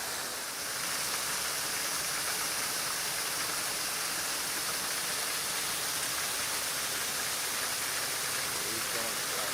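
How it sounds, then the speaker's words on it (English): A waterfall beside the drive up to a ranch near Sevierville, Tennessee, gives off a steady, broadband rushing roar that fills the whole stretch evenly without letting up. "Beautiful waterfall as you come up to the drive."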